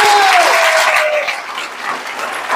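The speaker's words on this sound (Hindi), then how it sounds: "एक बार जोरदार ताली बजा लो।" An audience at a motivational sales meeting claps loudly in a dense burst of applause that fades slightly, with a faint whistle-like tone at the start.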